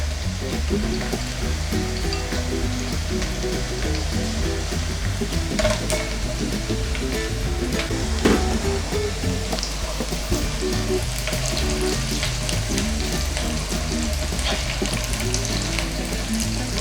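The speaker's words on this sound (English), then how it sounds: "Now to the hot oil, I'm going to add the Iru and Negro pepper." Iru and uda seed fry in hot oil for Nigerian native jollof rice, giving a loud, continuous sizzle with faint stirring clicks throughout and no talking.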